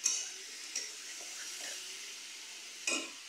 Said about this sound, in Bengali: এরকম ভাজতে ভাজতে এই টমেটোটা সেদ্ধ হয়ে যাবে, তো গুলেও যাবে